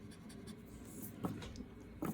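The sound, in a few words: writing with a Cross fountain pen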